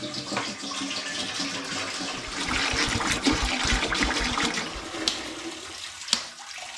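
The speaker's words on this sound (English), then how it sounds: "get 5 litres of spring water into my big pan" Five litres of spring water pours steadily into a big pan for home-brewing lime and ginger lager, a continuous rushing, splashing flow with a few sharper knocks near the end and no talk.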